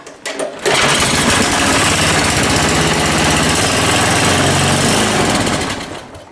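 A 20-year-old snow blower engine cranks and catches at 20 below zero, then settles into a loud, rapid, steady chugging idle that tapers slightly near the end.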